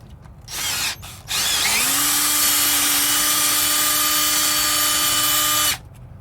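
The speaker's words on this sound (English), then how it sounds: "So I've got my 11/32 drill, and we're about to drill it." A power drill with an 11/32 bit whirs up after two short bursts, then runs at a steady loud pitch for about four seconds before cutting off, drilling a broken bolt hole on an 80 Series Land Cruiser.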